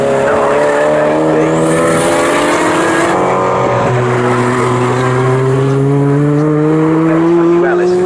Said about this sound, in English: Adam Brown's Vauxhall Astra Mark 1 should be the next one through in 8th place.